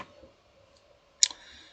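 A single sharp computer mouse click, close and crisp, confirming OK in a Raspberry Pi configuration window after near silence, followed by a faint trailing tick.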